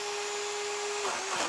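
A battery-powered stick saw cuts through a tree branch with a steady high electric motor whine that shifts in pitch near the end as the blade bites into the wood.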